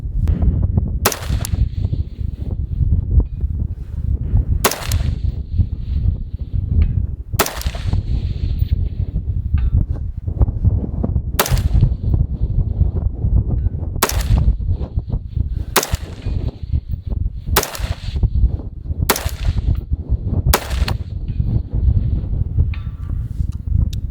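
An inexpensive AR-15 rifle fires at a 525-yard target in strong wind. Roughly nine sharp, loud shots ring out at irregular intervals of a few seconds, over constant low wind rumble.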